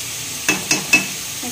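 Potatoes and cucumber stir-fried in masala in hot oil: three quick spatula scrapes break through a steady close sizzle, with a softer stir at the end.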